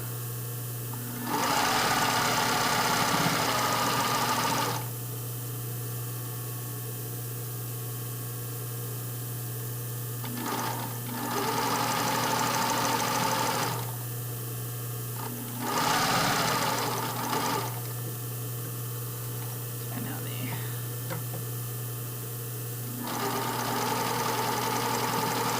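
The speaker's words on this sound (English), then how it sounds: "I'm just going to stitch right past where I started sewing." Sewing machine stitching a stretched lace panty seam, running in four separate bursts of steady whirring with short pauses between them and a constant low hum underneath.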